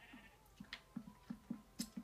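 Sheep bleat faintly in a blocky building video game, a string of short, quiet calls repeating at an uneven rhythm with a few soft clicks in between.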